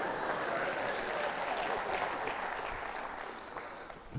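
Audience applause in a church: a steady wash of clapping from many hands, fairly loud and even throughout, tapering slightly toward the end with no talk over it.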